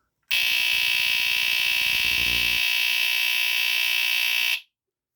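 A BRK 769AC smoke alarm blares a loud, steady high-pitched tone for about four seconds, then cuts off abruptly.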